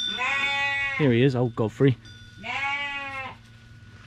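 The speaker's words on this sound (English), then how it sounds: "So that's the sheep let out for the morning." Sheep bleat loudly close by as they are let out in the morning on a Portuguese farm, with one long quavering cry, a few short broken bleats, then another long bleat, while someone speaks briefly.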